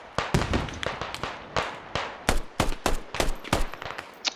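Gunshots in the tactical shooter Squad ring out in a fast, uneven string of sharp, loud cracks, some close and some farther off, with bursts bunched together and brief gaps between them.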